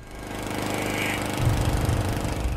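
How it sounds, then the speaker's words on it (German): Lawn mower cutting a lawn in the early morning, a steady engine drone that grows louder and rougher partway through, close and alone. "Sonny Buchanan mähte am frühen Morgen den Rasen."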